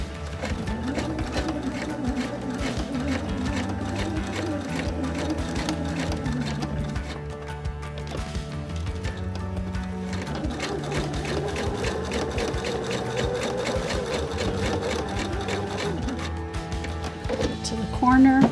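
A sewing machine runs steadily, stitching a smooth line to a corner before pivoting, a continuous close mechanical whir with a brief pause, while someone talks throughout.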